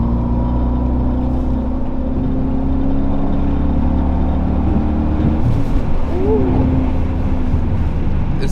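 A 2009 Pontiac G8 GXP engine with manual transmission roars continuously up close, rising in pitch as it accelerates, with a gear shift causing a brief dip before it climbs again.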